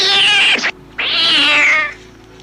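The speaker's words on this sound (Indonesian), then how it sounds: "dia dikejutkan oleh suara kucing hitam." Black cat meowing in a horror film, two long, loud, drawn-out yowls separated by a brief pause, close and piercing, the second fading away.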